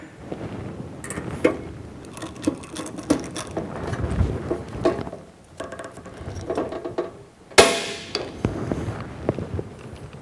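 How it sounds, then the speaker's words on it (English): A hand-operated pop rivet gun sets rivets in a sheet metal toolbox, with repeated clicking squeezes and ratcheting mechanical clatter and a sharp snap of a mandrel breaking near the end, close and moderately loud. "gun to install our pop rivets"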